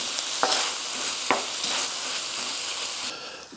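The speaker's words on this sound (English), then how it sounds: "we're gonna add about half a can of tomato paste. Let's get this mixed in pretty good" Ground meat with tomato paste being stirred in a frying pan, a soft steady sizzle under scraping of a spoon, with two sharper scrapes standing out near the start, no talking.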